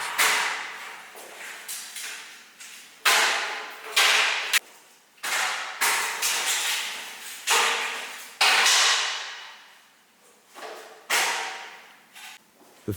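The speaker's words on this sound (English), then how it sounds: "Knock off the 2 side frames." The side frames of a shipping crate for an Arctic Leopard XE Pro R are knocked off, giving about a dozen sharp, close knocks and cracks in an irregular rhythm, each followed by a brief fading ring.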